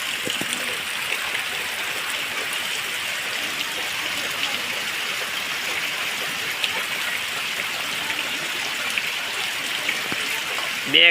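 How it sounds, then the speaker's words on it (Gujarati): Heavy rain pours steadily over open farm fields, a dense, unbroken hiss close by with scattered drops tapping nearby surfaces, continuous from start to end. "જો ભાઈ વરસાદ વરસે છે અત્યારે"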